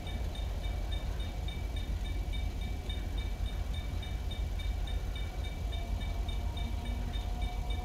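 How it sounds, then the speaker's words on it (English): A train rumbles past in Grand Theft Auto V in a steady, loud roar with a faint high whine, continuous for several seconds, no voices. "Is that another train?"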